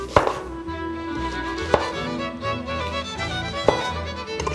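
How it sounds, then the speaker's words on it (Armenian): A knife cuts pineapple into slices on a cutting board, giving three sharp, separate chops spaced a couple of seconds apart over steady background music. "կտրատենք այսպես շերտերով"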